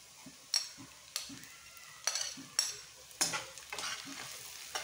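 Sliced onion with ground green chilies browning in a pan for a mixed Padma river fish curry, a soft steady sizzle broken by repeated stirring scrapes, fairly quiet and close, no talk.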